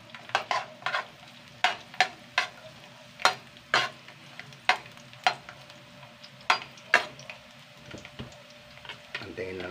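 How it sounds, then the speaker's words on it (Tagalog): Garlic sautéing in a pan while a utensil stirs it, sharp scraping taps recurring about every half second over a low sizzle, with a voice speaking briefly underneath. "Lagayan natin ang ating bawang"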